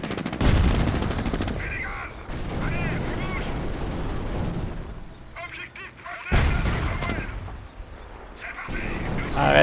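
Flak cannons and other gunfire in the World War II strategy game Company of Heroes, heard as dense bursts of rapid, loud shots and booms in a busy battle mix with short pauses between volleys.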